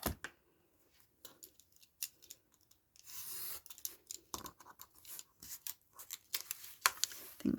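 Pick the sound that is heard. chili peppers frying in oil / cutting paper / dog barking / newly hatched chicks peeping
cutting paper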